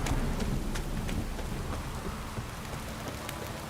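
Steady rain pours with low rumbling thunder in a Witcher 3 game scene, a dense continuous wash of drops and distant rolling thunder with no voices.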